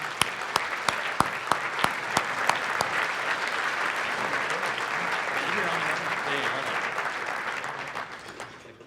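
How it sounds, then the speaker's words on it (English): An audience at an awards presentation breaks into sustained applause, a dense wash of clapping with a few sharp, louder claps standing out near the start, holding steady for several seconds before tapering off at the end. "Can we give these guys a round of applause and come to the stage, please?"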